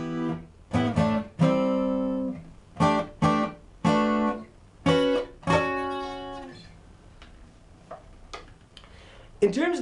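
A guitar plays a riff as a sequence of plucked notes that ring out in separate bursts of a few notes each, clear and up close, then the playing fades into a quieter tail.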